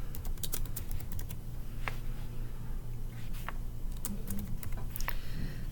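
Keys clatter on a computer keyboard in quick, uneven bursts of clicks, heard up close over a steady low hum of room or machine noise, with no talking.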